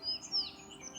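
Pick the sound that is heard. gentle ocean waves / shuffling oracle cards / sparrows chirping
sparrows chirping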